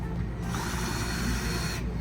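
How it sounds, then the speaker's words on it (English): Power drill boring bolt holes while mounting Torklift Glowstep Revolution Uprising RV steps, a steady close grinding whir that runs continuously with no pauses and no voices. "We're gonna get these holes drilled up and then get it bolted in"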